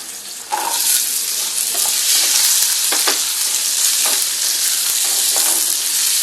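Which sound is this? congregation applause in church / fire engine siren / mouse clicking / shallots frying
shallots frying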